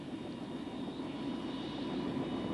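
An OH-58A Kiowa helicopter turbine engine spools up during startup, a steady broadband whining roar that builds gradually and holds loud and continuous throughout.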